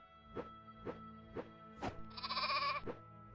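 Sheep in a building game bleat in a steady series of five or six nasal calls about half a second apart, loud and close, with a bright synthetic jingle briefly layered over the later ones.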